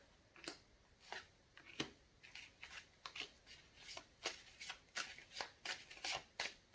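Tarot cards being shuffled for an intuitive reading make close, crisp riffles and slaps that come in a quickening, regular rhythm of sharp papery bursts.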